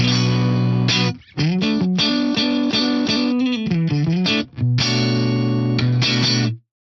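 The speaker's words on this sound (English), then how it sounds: "let's just hear my dry, clean sound on the neck and middle pickup of my old Strat" Clean, dry electric guitar on the neck and middle pickups of an old Stratocaster, a run of chords and single notes with short pauses between phrases, played alone and close.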